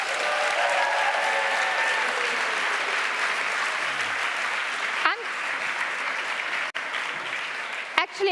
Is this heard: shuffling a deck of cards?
no